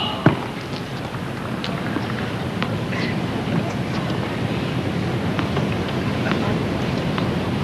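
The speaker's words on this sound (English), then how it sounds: "we've got a severe wind out here tonight" Steady, roaring wind buffets the microphone outdoors at a 1993 professional women's tennis match, a constant broadband rush; a faint thump near the start, and crowd-like murmurs under it.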